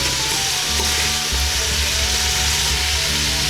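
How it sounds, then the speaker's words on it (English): Meat chunks browning in a hot pan for Irish stew sizzle loudly and continuously up close, with low rumbling bumps from the pan and chunks being turned throughout. "just get as much of the chunks browned as you can"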